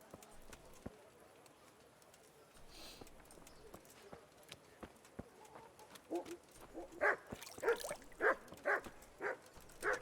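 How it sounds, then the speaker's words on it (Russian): A dog barks in Kingdom Come: Deliverance, several sharp yelps bunched toward the end over hoof clip-clops and faint outdoor ambience. "Что ты гавкаешь?"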